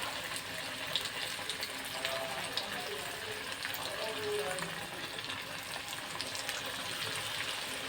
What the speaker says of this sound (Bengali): অল্প অল্প করেই ভাজি